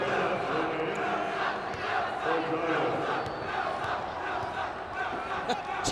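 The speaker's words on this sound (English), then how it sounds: "Teaneck crowd getting into it." A Teaneck crowd at a high school basketball championship game cheering and shouting, a sustained roar of many voices in a gym with faint bounces and squeaks beneath.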